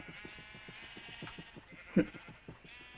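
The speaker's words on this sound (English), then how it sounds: "so now he's in with the sheep" Sheep bleat faintly at a distance, with one louder call standing out amid soft, rhythmic background sounds.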